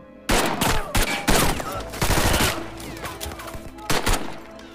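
A film shootout between US and German soldiers: loud, close bursts of gunfire and rapid automatic fire, several heavy volleys with short gaps, dense and chaotic throughout.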